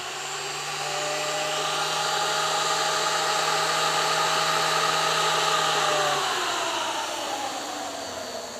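Motor of an automatic feeder switched on by an On Time timer, running as a steady loud electric whine with a constant hum, then slowing and winding down near the end, close to the microphone.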